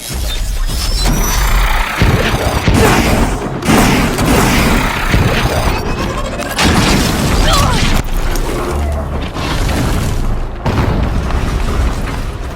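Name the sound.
explosion in the video game Horizon Zero Dawn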